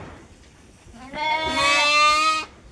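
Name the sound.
lamb bleating in its shed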